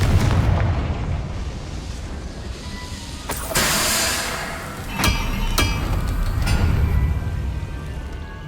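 Confringo spell blasts in Hogwarts Legacy, booming explosive bursts over a constant game rumble, several sharp impacts spaced a second or two apart, loud and close.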